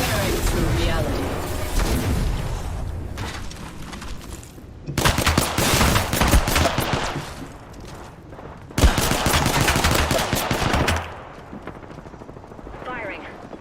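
Heavy gunfire rips through a solo ranked battle-royale video game match, with dense bursts of rapid automatic shots and booming impacts in long loud stretches separated by quieter gaps, while voices speak over the action.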